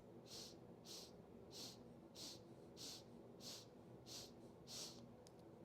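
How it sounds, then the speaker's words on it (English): Eight short, rhythmic nasal sniffs drawn in quick succession during Kundalini yoga breathing, soft and close, each a brief airy hiss over a low steady background hum. "we'll start to inhale 8 sniffs"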